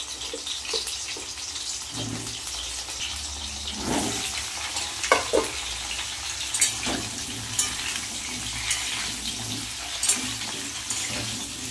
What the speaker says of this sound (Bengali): আলু পটলের রসা করার জন্য আমি আগে আলু পটলটা ভেজে নেব।